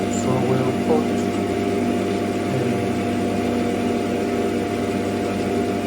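A running mini lathe hums steadily with dense motor harmonics as the tool takes a cut on a workpiece, with a voice speaking over it.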